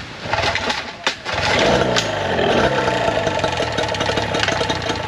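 A repaired boat engine cranks and catches, then settles into a loud, steady rattling run with a continuous droning hum, close by.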